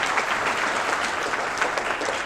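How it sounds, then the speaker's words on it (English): An audience at a supply chain summit applauds a panel, steady dense clapping filling the room throughout with no speech over it. "Please a round of applause for the panel"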